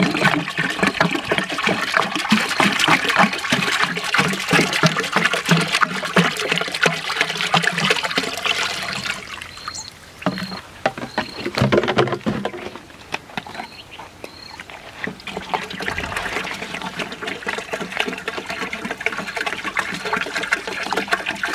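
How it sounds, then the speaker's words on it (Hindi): Ten litres of desi cow urine pour steadily into a barrel while making jeevamrit, a continuous loud splashing trickle that eases briefly midway before the flow resumes at full strength. "इसके बाद हम इसमें 10 लीटर गौमूत्र डालेंगे"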